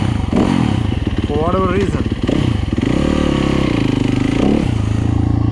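A warmed-up Yamaha YZ250F dirt bike engine revs up and settles back to idle, loud and close, with someone talking over it.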